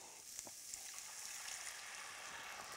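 White wine poured into a pan of onions and peppers sizzling in oil, giving a steady, fairly faint hiss of frying that continues evenly throughout with no voices.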